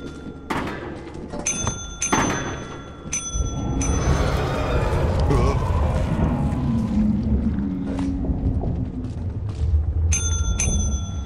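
A bell rings sharply in the Lethal Company video game, with several separate bright strikes near the start and a couple more near the end, set against thumps and a busy rumbling background.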